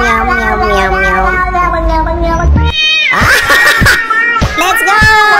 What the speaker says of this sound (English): Meow, meow, meow, meow, meow, meow, meow.